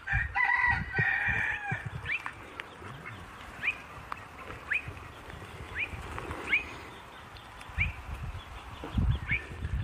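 Pickwick the rooster clucks again and again, sharp rising calls at a steady pace, faint but clear over low rustling and handling noise as he is held.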